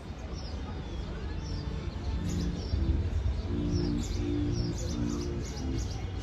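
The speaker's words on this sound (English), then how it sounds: "the birds are singing." Birds chirp and coo outdoors on a bright day, light and fairly distant over a steady background hum, with faint talk now and then.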